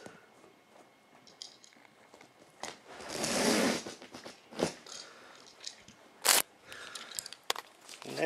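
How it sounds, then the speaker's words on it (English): Carpet slicer cutting along a carpet edge while seaming carpet, a close rough ripping and scraping burst followed by scattered rustles and a few sharp snaps, no talking. "And I gotta cut off a little more yet."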